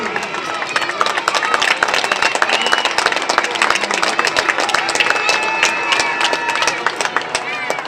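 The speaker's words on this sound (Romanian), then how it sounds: "Vă rog să-l aplaudați" A stadium crowd at the FC Botoșani versus Dinamo football match claps and murmurs, with sharp individual claps standing out over a broad, continuous wash of crowd noise and a voice over a loudspeaker.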